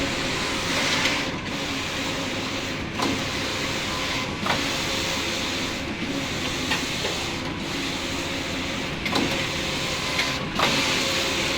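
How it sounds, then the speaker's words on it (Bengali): A pump-system machine runs steadily on a factory floor, a continuous droning whir with faint regular clicks recurring about every second and a half. "Pump system machine."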